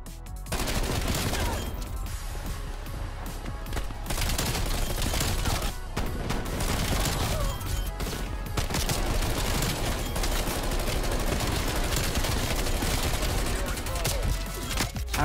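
Sustained, loud gunfire in a Call of Duty match, with dense rapid bursts and booms running almost continuously and only brief gaps.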